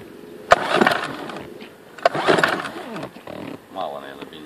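A small Sea-Pro 5 hp outboard boat motor being started at sea, with sharp pull-start bursts and uneven sputtering engine noise while people talk over it.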